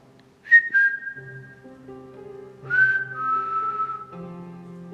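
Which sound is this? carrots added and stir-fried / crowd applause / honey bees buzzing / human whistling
human whistling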